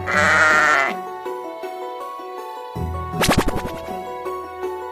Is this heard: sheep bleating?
yes